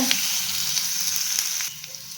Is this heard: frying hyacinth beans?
yes